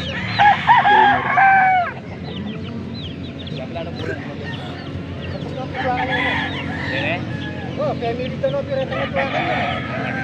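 A young Gilmore gamecock stag crows loudly and up close, with repeated crows and clucks from other fowl at a busy rooster gathering in Angeles, Pampanga, while people talk in the background.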